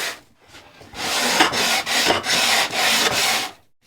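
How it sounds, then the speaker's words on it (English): Sandpaper held at an angle rasps along the edge of a wooden picture frame in four steady back-and-forth strokes, close and fairly loud, with no voices. "just to take the sandpaper at an angle and rub it along the side"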